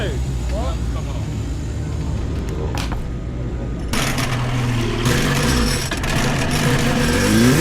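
Racing motorcycles, a Yamaha TZ 350 among them, are bump started at a Snetterton club meeting; engines catch and rev unevenly with mechanical clatter, and voices talk nearby.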